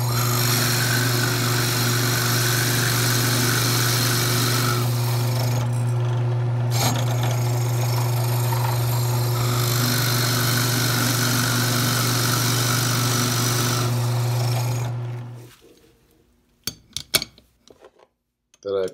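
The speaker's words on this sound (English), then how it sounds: "I used my largest Forstner bit to get started on hollowing the bowl out." A large Forstner bit bores into a firewood bowl blank on a lathe, giving a steady loud grinding drone with a strong low hum for about fifteen seconds before the machine stops and a few faint clicks follow.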